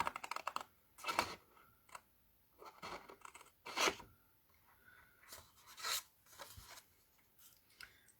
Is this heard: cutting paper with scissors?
yes